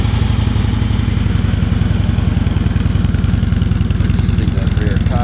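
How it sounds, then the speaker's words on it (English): A Harley Davidson Street Glide FLHX on its factory exhaust idles close by with a steady, loping low-pitched pulse. Someone talks over the engine. "It's got the factory exhaust on it, so it runs fairly quiet."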